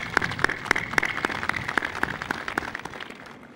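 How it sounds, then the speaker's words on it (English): Steady rhythmic clapping from a crowd at a naval ship launching ceremony at Karachi shipyard, a moderate, even round of applause heard from a distance. "let's give a loud round of applause for management and workforce of Karachi shipyard."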